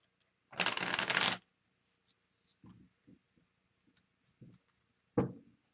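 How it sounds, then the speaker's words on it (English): Tarot cards shuffled by hand: one loud riffling burst near the start, a few soft scattered card taps and slides, then a final short shuffle, with a quiet voice in between. "Let's shuffle a little bit and see what's going on for Leo."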